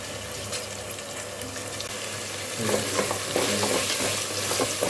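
Chopped tomatoes and green chillies stirred together in a hot pan for paneer pulao, a steady frying sizzle with scraping spoon strokes that grow louder and busier partway through, close by with no talking.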